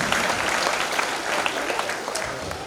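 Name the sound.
audience applause welcoming a guest on stage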